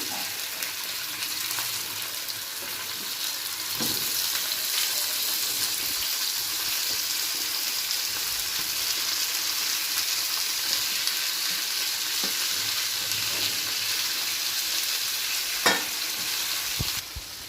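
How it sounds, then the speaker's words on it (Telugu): Tomatoes and green chilies fry in a pan with a loud, continuous sizzle, and a few faint knocks from stirring are scattered through it. "పచ్చిమిర్చి వేగిపోయాయండి టమాటా వేస్తున్నాము ఇప్పుడు"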